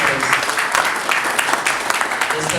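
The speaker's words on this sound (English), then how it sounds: "Please a round of applause for him." Loud, close applause from the audience at a memorial lecture greets the keynote speaker, with crisp individual claps standing out from the steady crowd clapping throughout.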